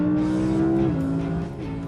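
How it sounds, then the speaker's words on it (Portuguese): A 610-horsepower V10 sports car engine revs loudly and close by under acceleration, its steady tone stepping down in pitch twice as it shifts through gears, with no voices over it. "é só o barulho do V10"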